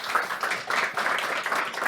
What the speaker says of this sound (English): And clap. Clap,